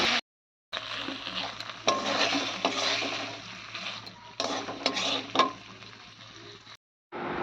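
Fish curry cooking in a pan with very little oil, a soft, close sizzle with occasional light clinks of a utensil, broken by brief gaps of silence, no talking.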